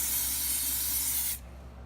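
Steady, loud spray hissing inside a pressure pot being cleaned, running continuously for over a second before cutting off abruptly, leaving a quiet low hum.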